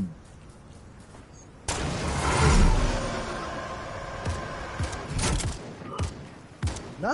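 Gunfire in Fortnite, with a loud burst of shots and clattering impacts rising midway, then scattered single cracks while a player talks in the background.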